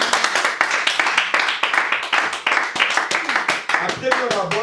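A church congregation at a prayer service claps in quick, steady rhythm, loud and close, with voices calling out over the clapping throughout.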